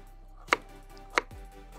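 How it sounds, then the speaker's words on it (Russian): A knife chops through potatoes on a cutting board, three crisp separate strikes spaced evenly and close by, with no talking. "Так, для начала режем картошку."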